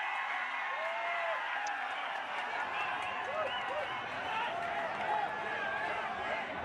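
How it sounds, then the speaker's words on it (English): Crowd at a football match between Khlihmawlih and Selsella in the MSL 2023, a steady wash of distant crowd noise with cheering and whistles throughout, while a commentator talks over it. "Crowd is all excited."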